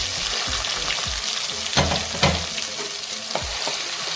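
Fish curry masala frying in hot oil: a continuous dense sizzle with soft stirring scrapes and a few louder spatters, steady and close.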